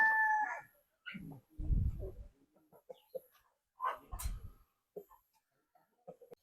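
Brahma chickens on a farm in the middle of a forest: one rooster crow opens, followed by scattered soft clucks and a few short, louder low bursts, all fairly quiet with no talking.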